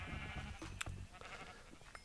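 Sheep in Minecraft let out short bleats as they are killed, a few brief cries over a low background of game sounds and music, with no talking.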